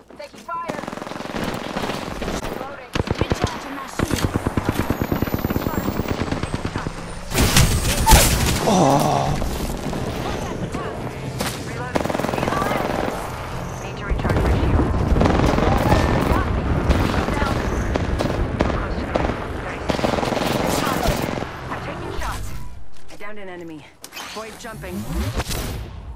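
Sustained automatic gunfire rattles in the Apex Legends battle royale game, loud bursts of rapid shots hitting and overlapping throughout a tense firefight, with voices talking over the shooting.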